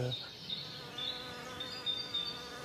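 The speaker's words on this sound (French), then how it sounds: "On a eu les abeilles solitaires un petit peu, là, qui commencent à passer près des micros." Solitary bees fly close past outdoor microphones, their buzzing wings rising and fading in several brief passes over a quiet natural background.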